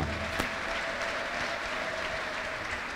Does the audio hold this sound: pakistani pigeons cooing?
no